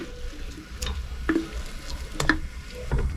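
Light scraping and clinking of a spoon stirring a thick nettle stew in a pot, a few brief strokes over a quiet simmering hiss.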